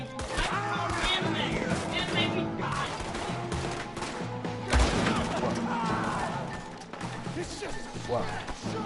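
Gunfire in the Western video game Red Dead Redemption 2, a dense burst of shots and crashes mixed with game music and voices.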